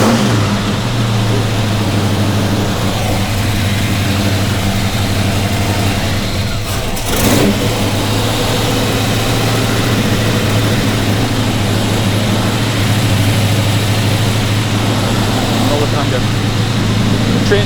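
A 450 hp Blueprint crate engine runs with a loud, steady mechanical drone and a sustained low hum, with a brief rise around the middle, as a voice speaks over it.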